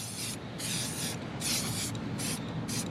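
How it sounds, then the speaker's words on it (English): Cleaner sprayed over a Can-Am Ryker three-wheeled motorcycle in several loud, close hissing bursts of uneven length with brief pauses between them. "I spray it on the whole Ryker, and then I come back and I wipe it down"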